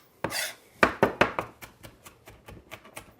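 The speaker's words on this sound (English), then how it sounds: "you want to dice it super fine, almost so that someone couldn't tell it was there" Onion being finely diced with a knife on a cutting board: a string of crisp, close chops, strong at first and then lighter and quicker, with no voices.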